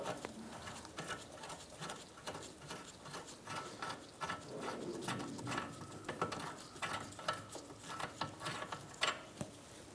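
Bolt being loosened and backed out of the rear forward lower control arm on a 2012-2018 Ford Focus, with repeated ratchet clicks and metallic taps in an irregular rhythm, close by with no talking.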